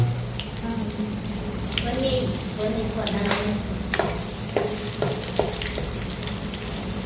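Steady frying hiss from hot oil as a tempering is made for fried fish eggs, with occasional sharp clinks of utensils and a voice speaking briefly in the background.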